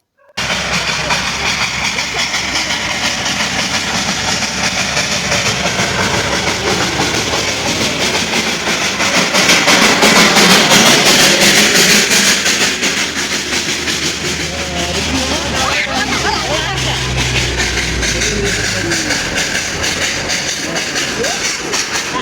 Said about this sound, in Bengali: তো দেখো এই যে ট্রেন চলে এসছে